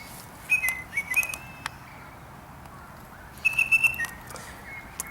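Birds in the morning in Brisbane, Australia, sending out thin high whistling chirps in two short bursts against quiet background hiss, fairly close and clear, with a few soft voices nearby.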